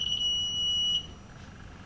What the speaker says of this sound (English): Try and stop it beeping